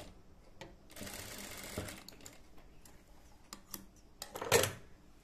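A sewing machine stitching a satin bonnet runs in a quiet burst of whirring, followed by sparse clicks and handling noises, then a brief louder run near the end.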